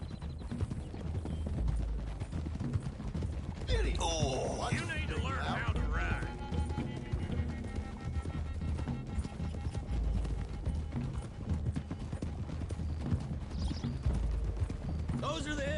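Galloping horses in a PS4 video game, a fast continuous drumming of hooves at close range, with a whinny and voices over the riding.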